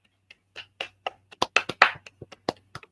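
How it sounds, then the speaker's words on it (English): A quick run of hand claps, about a dozen sharp, close slaps in an uneven rhythm, some softer and some louder, heard alone without talk over a faint low hum. "I clapped for you, though."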